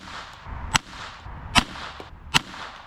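.22 Short rifle fired three times at an even pace during a chronograph velocity test, each shot a sharp, moderately loud crack with brief rustling between.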